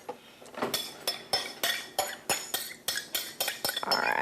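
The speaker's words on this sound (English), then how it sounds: "Okay, need a spoon here. Grab a spoon." Metal cutlery clinks and clatters in a run of sharp, close rattles as a spoon is picked from among other utensils, about a dozen quick strikes with no voices.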